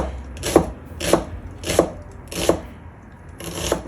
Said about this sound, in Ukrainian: Цибулю почистила та нарізаю півкільцями тоненькими.